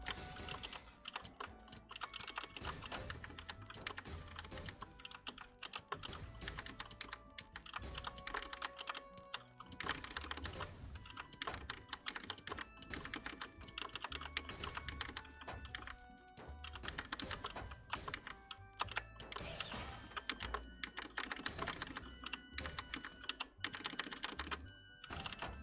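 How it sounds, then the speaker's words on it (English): Computer keyboard typing during a live stream, keystrokes clattering steadily and continuously at close range, with dense overlapping activity throughout and no speech. "I guess you can probably hear my keyboard"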